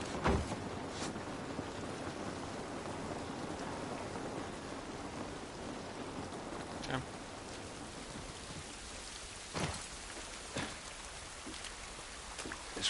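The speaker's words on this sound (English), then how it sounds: "This rain ain't gonna do us any good." Steady rain falls outdoors in a drama series scene, a soft continuous hiss broken by a few sharp, brief knocks and a low rumble, with no talk.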